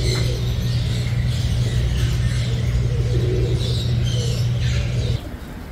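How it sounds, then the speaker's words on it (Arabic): King pigeons coo in low repeated calls from close by, mixed with other faint bird chirps at a shop with animals and birds. "حمام الكينج."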